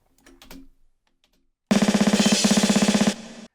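After a faint brief sound, a rapid burst of evenly spaced programmed snare hits rattles at one unchanging loudness for about a second and a half.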